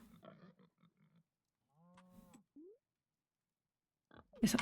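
Farm animals in a farming video game, with short pig grunts and oinks and a cow-like call, sparse and fairly close amid quiet gaps, followed by a louder burst at the end.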